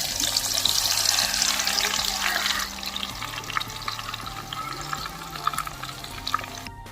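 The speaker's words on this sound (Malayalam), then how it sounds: "ഇനി നമുക്ക് കുറച്ച് സബോള ഒന്ന് പൊരിച്ചെടുക്കണം." Onions fry in hot oil for prawn biryani, giving a steady bubbling sizzle that is loud at first and then settles into a softer crackle, with a low hum underneath.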